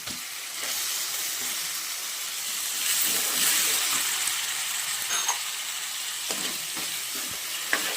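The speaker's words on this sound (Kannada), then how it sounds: "ಈಗ ಹೆಚ್ಚಿಟ್ಕೊಂಡಿರೋ 2 ಟೊಮೆಟೊ ಹಾಕ್ಕೊಳ್ಳೋಣ." Tomatoes tip into a pan of frying ginger, setting off a steady, close sizzle and hiss that holds for the whole stretch, with a few soft stirring clinks.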